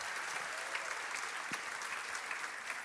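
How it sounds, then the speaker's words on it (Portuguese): A short round of audience applause at a literary festival talk, a steady even patter of many hands heard fairly quietly from a distance throughout. "Uma salva de palmas para o Guto."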